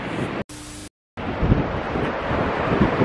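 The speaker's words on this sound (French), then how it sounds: "il y a un vent terrible" Strong wind buffets the microphone in heavy, continuous rumbling gusts outdoors near the sea, broken by a brief cut, then roaring on loudly without speech.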